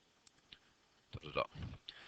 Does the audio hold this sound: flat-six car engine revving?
no